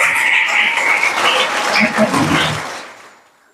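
Loud applause from an audience at a birthday anniversary celebration for poet Da. Ra. Bendre. The dense clapping fades away over the last second.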